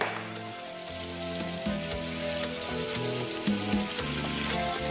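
White wine hits a casserole of browning rabbit pieces and sizzles and crackles steadily, a close, fairly loud frying hiss with a few bright spatters and no talking.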